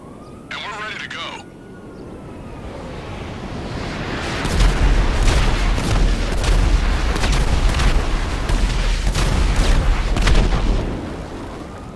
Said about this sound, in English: One of our aircrafts will be with you shortly.